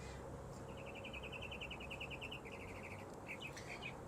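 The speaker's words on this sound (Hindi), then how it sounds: "चिड़िया भी चहचहा रही हैं" Birds chirp in a park on Roosevelt Island in New York City among cherry blossoms, a rapid, trilling series of faint, high tweets over steady low background noise.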